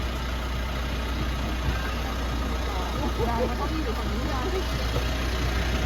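A Mitsubishi Triton 181 hp pickup drives the mountain road at Khao Kho in Thailand, giving a steady, loud engine drone and road rumble throughout, with someone talking over it.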